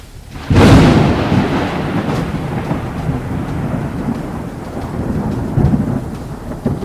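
Heavy rain with a sudden loud crack of thunder that rolls and rumbles on for several seconds over steady pouring rain, with a second swell of rumbling near the end and no talk.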